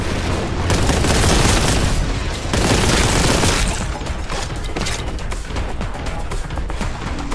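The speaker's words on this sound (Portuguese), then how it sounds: "Granada." A grenade blast in the Warhammer 40k Boltgun video game, a loud sustained roar of explosion and gunfire filling the scene, dense and booming throughout.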